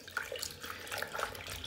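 Water runs from a tap as inkjet-printed fabric is rinsed under it, a soft, steady splashing and trickling with small irregular spatters, close by and without speech.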